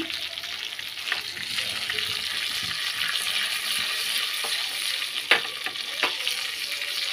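A tempering of cumin, mustard seeds, urad dal and curry leaves sizzles and crackles steadily in a hot pan, with close, continuous frying and a few sharper pops and spatters.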